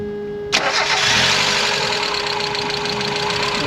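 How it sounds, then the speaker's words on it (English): A 1992 Mazda Miata's 1.6-liter dual-overhead-cam inline-4 cranks briefly and catches about half a second in, then settles into a loud, steady idle close by, with no talk. "So now we'll go ahead and get on in the Miata, fire it up"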